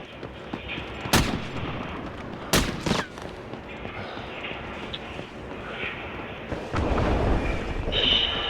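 Gunshots crack in a mobile shooter video game, a few sharp loud reports spaced a second or two apart over steady game background noise, with a denser burst of fire near the end.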